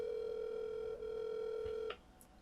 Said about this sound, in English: Let's try calling her and see what she's doing.